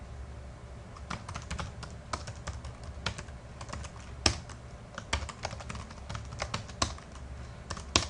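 Fingers tap out a password on a computer keyboard in a quick, uneven run of clicky keystrokes, close up and alone.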